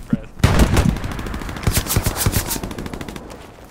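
Gunfire in the Hell Let Loose video game: a loud, close burst of rapid automatic fire followed by sustained rattling shots with a few distant reports, dense and continuous, with some voice underneath.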